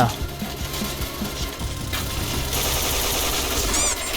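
Rapid AK rifle fire in the online shooter Point Blank, a dense burst of close, loud shots repeating through the clip amid game noise.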